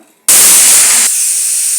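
Pressure cooker whistle bursts into a loud, sharp hiss of escaping steam after a brief quiet moment, holding steady and easing slightly partway through.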